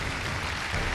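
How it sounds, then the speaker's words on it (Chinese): A studio audience at a Chinese television dating show breaks into a brief, steady wash of applause, even and unbroken for about a second. "好了，接下来让我们用掌声请出这一对"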